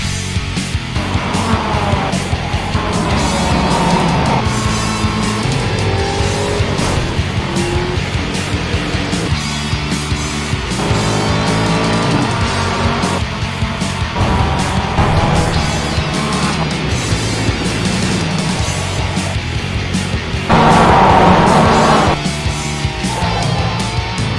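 Sim race cars lapping the Belle Isle street circuit in the Ricmotech Sports Car Series, with engines droning and rising steadily throughout, pitch sweeping up and down through gear changes, and occasional tire squeal.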